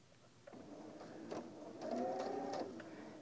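Sewing machine stitching in the ditch along a fold line on slim pants, a short steady mechanical whir that starts about half a second in and grows slightly louder toward the end, close by with no talking.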